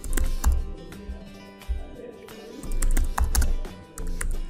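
Computer keyboard being typed on while entering Python code, a run of quick clicky keystrokes in uneven bursts, close and moderately loud, with no talking.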